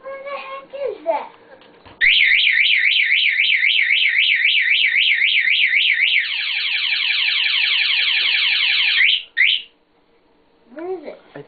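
A mini four-wheeler's alarm sounds close and loud, a warbling, looping electronic siren that shifts to a faster rising sweep pattern before cutting off, with a voice talking briefly before and after.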